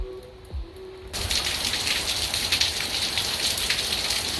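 Steady rain falls on an outdoor surface beside a smoker rebuild in Southern California, a dense continuous hiss that starts abruptly and holds at an even, fairly loud level with no talking.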